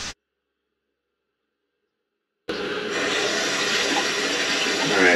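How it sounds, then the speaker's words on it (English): Cold water rushing out of a black exit tube from the heating pipes of a Navien CH 240 combination boiler into a bucket, starting abruptly after two seconds of silence and continuing as a loud, steady splashing gush. "I'm flushing the cold water through the heating pipes and out of the heating exit black tube into my bucket"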